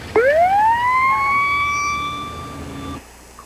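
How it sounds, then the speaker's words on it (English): A police car siren winds up to a loud steady wail, holds its tone for nearly three seconds, then cuts off abruptly. "Bravo K1, sound your siren."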